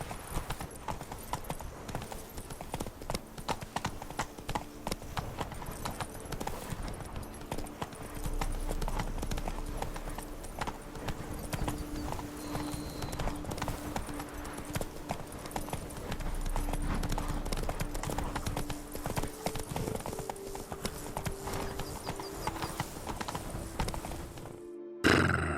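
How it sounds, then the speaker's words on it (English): A horse gallops in The Witcher 3 video game. Close, rhythmic hoofbeats clip-clop steadily for the whole stretch and end in a short louder burst. "Run, Roach."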